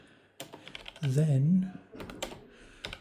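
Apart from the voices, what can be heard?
typing on a Zerowriter keyboard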